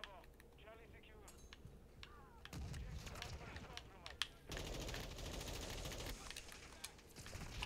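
Rapid automatic gunfire in a Modern Warfare 2 multiplayer match, with several bursts of sharp repeated shots, some nearer and louder, plus clinking and footstep-like game sounds underneath.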